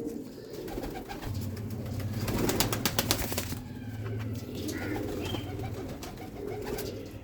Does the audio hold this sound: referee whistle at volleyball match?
no